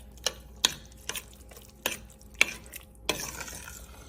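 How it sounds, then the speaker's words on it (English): Black beans are stirred in a cooking pan: six or so sharp utensil scrapes land roughly half a second apart over a faint background sizzle, with no voices. "And I'm going to stir."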